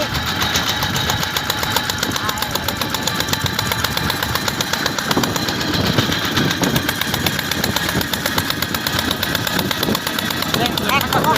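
A tractor engine revs steadily with a rough, chugging rumble that stays loud and continuous throughout, with people talking over it.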